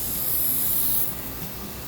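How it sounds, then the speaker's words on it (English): Lubricant sprayed onto a steel door hinge with an opened door, a sharp close aerosol hiss lasting about a second, then a faint mechanical rattle. "for spraying a hinge, I recommend opening up the door and spraying it from the inside like so."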